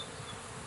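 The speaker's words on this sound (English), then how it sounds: "I'm going to start vacuuming bees off" Honeybees hum in a dense, steady buzz during a cut-out removal of a hive, a brief faint swarm drone with no pauses.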